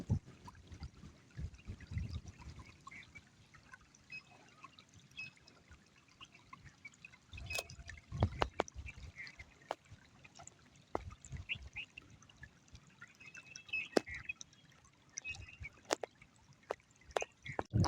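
Irrigation water trickles and pours through a farm field channel, faint and close, with small gurgling splashes and drips coming in scattered bursts over near-silence.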